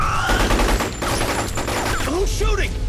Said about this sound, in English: Who's shooting? Who's shooting?